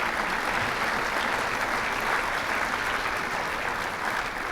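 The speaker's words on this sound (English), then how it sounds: "let's give her a round of applause." An audience at the Extension Annual Conference 2015 keynote gives a sustained round of applause, a dense, even wash of many hands clapping alone for several seconds.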